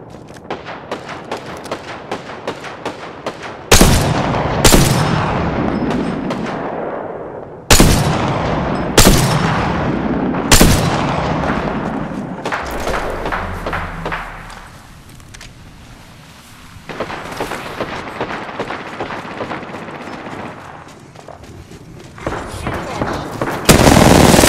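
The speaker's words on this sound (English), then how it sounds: "Listen up, I'm getting shot at." Gunfire in the Apex Legends shooter game, rapid automatic bursts alternating with heavy single booming shots, loud and close, with pauses and a few quieter stretches between volleys.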